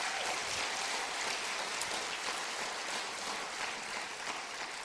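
Steady, dense applause from a crowd at a mayor's State of the City address in Youngstown, an even wash of clapping that holds at the same level throughout without any voices.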